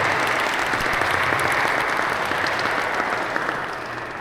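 An audience at the Toronto Democracy Forum 2025 panel gives a round of applause, with steady, dense clapping throughout that fades slightly toward the end.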